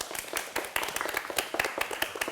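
A studio audience claps to welcome the first panelist onto a Korean ICT talk-show stage, a brief, moderately quiet patter of claps from a small group, slightly uneven in rhythm.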